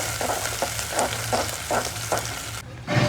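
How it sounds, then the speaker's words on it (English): Roughly chopped onions fry in a pot for Kerala egg masala, hissing steadily while a utensil stirs them in a regular rhythm of scraping strokes, close and fairly loud. "roughly chopped onion for the egg masala, and we will cook the onion until they are slightly pink"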